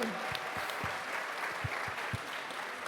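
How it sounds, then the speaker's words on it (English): An audience at a Tesla club event applauds, a soft, fairly distant patter of clapping with a few sharper individual claps standing out. "let's give them a round of applause"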